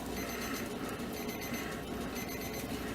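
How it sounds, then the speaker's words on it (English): A kitchen timer rings out in a home kitchen while chicken and dumplings cook, a dense continuous electronic buzzing alarm held steady for the whole stretch, fairly faint and without talk. "There goes my timer."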